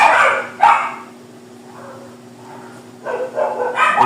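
A dog yaps in short bursts, one cluster at the start, a quiet gap, then another run of barks toward the end, fairly close.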